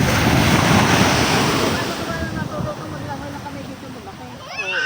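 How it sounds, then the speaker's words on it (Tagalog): Big waves breaking on a dark sand beach in Batangas, Philippines, a loud steady wash of surf with wind buffeting the microphone, easing slightly toward the end while a person talks over it. "That's the big waves."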